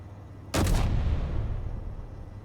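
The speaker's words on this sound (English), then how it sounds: "Now for the artillery turrets, which have a 1400 meter range." A single heavy artillery turret blast in the video game Space Engineers booms out, its loud impact rumbling and fading slowly over a low background hum.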